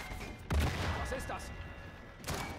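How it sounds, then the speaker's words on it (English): A grenade going off in Sniper Elite 5, a dull blast followed by a second boom a moment later, with someone talking over the game sounds. "Can I drop a grenade over?"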